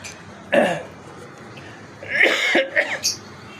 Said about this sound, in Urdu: کھانسی کا تو یہی عالم ہے